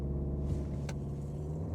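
A 2026 Kia K4 GT-Line turbo hatchback engine held on the brake, a steady low rumbling drone with a slight rise, close and loud.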